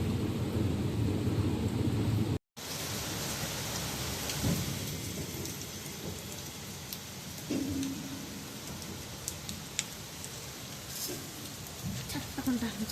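Steady rain pattering and hissing during a train journey, with scattered drops and occasional low rumbles under a continuous wash of noise, briefly cut off for a moment near the start.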